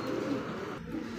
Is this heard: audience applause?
no